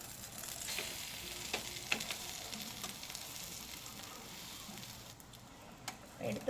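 Bread omelette frying in oil in a pan, a quiet, even sizzle with scattered little crackles and a brief scrape or clatter near the end, faint and steady.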